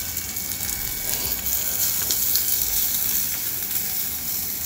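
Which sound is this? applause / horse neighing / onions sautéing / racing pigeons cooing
onions sautéing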